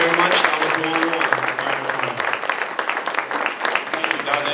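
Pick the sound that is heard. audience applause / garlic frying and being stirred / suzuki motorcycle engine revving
audience applause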